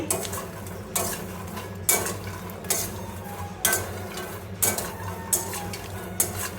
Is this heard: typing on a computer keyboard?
no